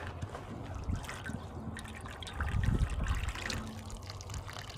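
Water running from a hose or tap while filling for a spring garden, a steady trickling, splashing flow with a few louder gurgling surges, close by and without talk.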